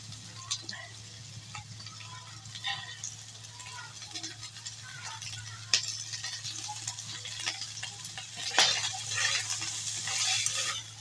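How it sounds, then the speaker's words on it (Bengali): Shrimp frying in a pan for a home-cooked Bengali mash dish, with soft sizzling and scattered clinks of a utensil against the pan, growing louder near the end. "এবার আমি চিংড়ি মাছগুলো দিয়ে দেবো"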